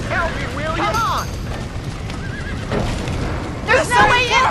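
A horse trapped in a burning building in Red Dead Redemption, shrill neighs and whinnies repeating over crackling fire and low rumbling, with loud whinnies near the end.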